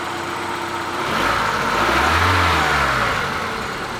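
An old car engine runs steadily at idle after starting, briefly revving up and settling back down, smooth with no valve clatter, close and loud with no talking.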